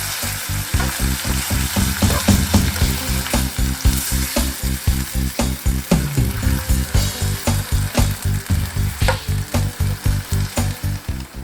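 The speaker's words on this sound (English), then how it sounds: "Add the sauce to the pan." Sauce hits a hot pan of flour-coated steak for chow mein, sizzling loudly under a fast, regular scraping rhythm of stirring that continues evenly from start to finish.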